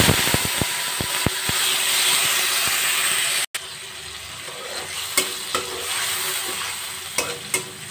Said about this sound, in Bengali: এবার পেস্ট করা মশলাটা দিয়ে দেবো।